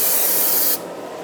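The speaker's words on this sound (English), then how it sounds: "I'm going to spray the hub while I'm at it." Brake parts cleaner is sprayed onto the rear hub of a 2008–2012 Jeep Liberty during a parking brake shoe replacement. It makes one loud, close, steady aerosol hiss that cuts off abruptly partway through.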